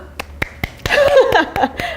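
A few sharp, separate claps or snaps ring out in a quick irregular series during a live Korean broadcast, with brief bits of voice in between.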